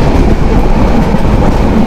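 Meghna Express, an intercity train, running fast on a double line track: a loud, steady rumble of wheels and carriages with a continuous roar and no voices.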